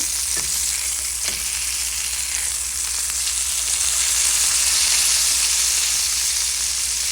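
Chicken pieces fry in a pan with a steady, loud, close sizzle and hiss that keeps going the whole time, with a couple of faint clinks near the start.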